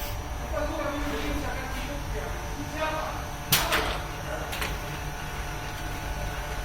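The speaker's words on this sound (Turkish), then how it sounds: "Konvör motor, vakum motor, makine start diyoruz." A perfume bottle filling machine starts up with its conveyor and vacuum motors. It makes a steady mechanical hum and whir, with a sharp clunk near the middle and lighter ticks around it, and there is faint background chatter.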